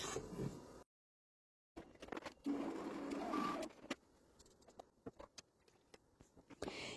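A bread-dough kneading machine mixing dough for Ramadan flatbreads, giving a whirring mechanical drone with irregular clicks and knocks, broken by a brief silent gap, with no talk.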